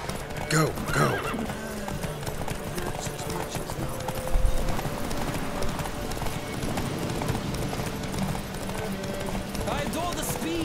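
Horses galloping in a race in The Witcher 3, with rhythmic clip-clop hoofbeats and occasional neighs under continuous game ambience and voices talking.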